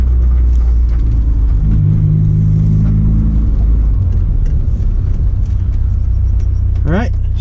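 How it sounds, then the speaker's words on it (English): A manual car pulls away in second gear after a shift, its engine a steady, close, low rumble that swells briefly near the end. "To change gear, just clutch in, second gear, release the clutch, more gas."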